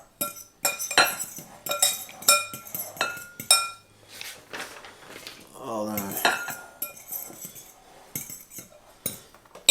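A utensil stirs coconut flour into keto donut batter in a bowl, giving repeated clinks and scrapes against the dish in an irregular rhythm, close and fairly loud.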